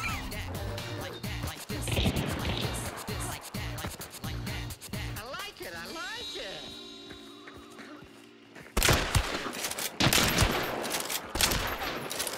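Gunfire in the video game Hunt: Showdown, with bursts of shots and impacts over game sound, a quieter stretch, then loud renewed firing near the end, with voices talking throughout.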